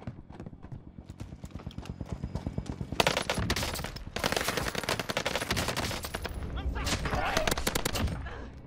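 Gunfight in Call of Duty Warzone: a steady stream of rapid, loud gunshots and automatic bursts, with fire thickening from the middle onward and carrying on to the end, close and dense with no talk.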